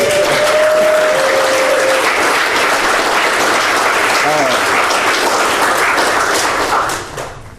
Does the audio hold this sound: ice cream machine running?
no